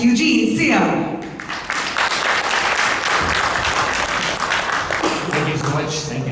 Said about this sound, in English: One more round of applause for Kavya